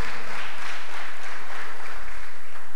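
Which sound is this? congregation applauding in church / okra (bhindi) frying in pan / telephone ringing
congregation applauding in church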